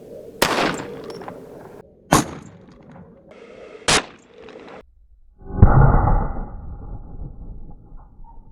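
A Desert Eagle handgun fires a .385 load into ballistic gel outdoors. Three sharp, loud shots come at spaced intervals, followed by a heavier rumbling burst near the end.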